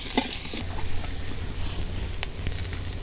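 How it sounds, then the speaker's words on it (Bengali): Potatoes fry in oil in a wok, a low, even sizzle with occasional faint stirring scrapes, heard fairly quietly with no talking. "আমি আলুগুলো হালকা একটু ভেজে নেবো"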